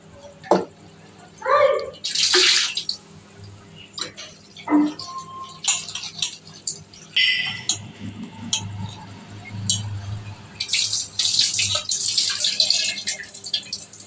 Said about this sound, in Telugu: సో ఇలా 2 టైమ్స్ మంచిగా వాష్ చేసుకుంటే ఇందులో ఉన్న మట్టి అంతా వెళ్ళిపోతుంది